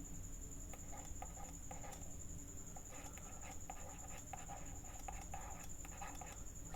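A pen writes on paper during a maths lesson, soft scratchy strokes in short irregular bursts over a steady faint background hum.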